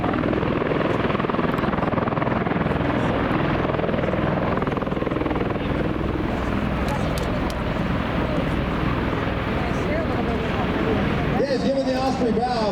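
MV-22 Osprey tiltrotor of the Marines hovering at an air force base demonstration, a loud, steady, close rotor roar and rush of downwash air that fills the whole stretch, with a brief change near the end.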